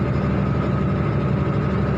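Hino 344 truck, rated for 45 tons, labors up a steep hill with its engine droning in a loud, constant low rumble heard from close by.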